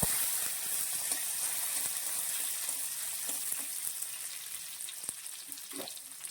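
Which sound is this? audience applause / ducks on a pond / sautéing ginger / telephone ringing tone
sautéing ginger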